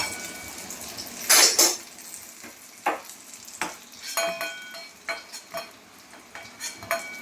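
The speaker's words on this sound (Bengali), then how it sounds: "ভাজা হয়ে গেল, এবার পটলগুলো তুলে নেবো একে একে করে।" Pointed gourd slices fry in a pan with a soft sizzle underneath. Repeated scrapes and metal clinks from a utensil recur every second or so as the pieces are lifted out one by one.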